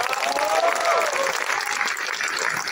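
An audience at an Argentine rock talk and concert in Avellaneda claps loudly and evenly throughout, with scattered cheers and a voice faintly audible beneath the clapping.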